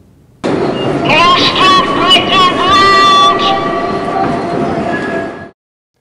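A New York subway train rumbles loudly nearby, with screeching, squealing wheels and clattering as it moves, fading out abruptly at the end.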